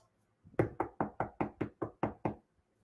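Knocking on a house door: a quick run of about nine sharp, evenly spaced knocks, close and clear, with silence before and after.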